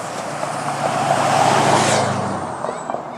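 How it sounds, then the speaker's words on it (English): A free downtown shuttle bus in Grand Rapids, Michigan rolls past close by on a winter evening street, its engine and tire noise swelling to a peak midway and fading again, with no talk. "There goes one of the Dash buses. That's the free bus system that runs around between the commuter lots here in Grand Rapids, Michigan."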